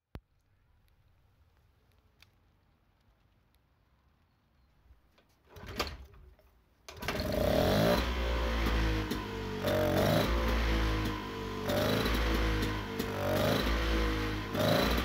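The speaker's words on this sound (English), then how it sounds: "the regulator needs a moment, but now the engine is running smoothly" An East-German military generator engine starts under load after a quiet stretch, settling into a loud, steady running drone with a rhythmic pulsing pattern as the regulator catches up.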